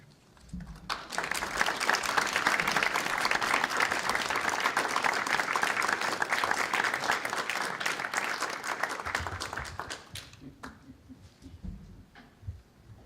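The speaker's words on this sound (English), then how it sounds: "Let's give her another round of applause." An audience at a Grange 150th anniversary gathering applauds after a speech, steady clapping rising quickly, holding loud for several seconds, then fading out as a voice begins.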